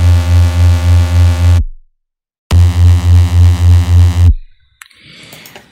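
Thick buzzing Reese synth bass from Serum, saw waves on both oscillators with unison, notes with a steady wobbling pulse, two sustained tones separated by a brief silence, then a faint noisy tail.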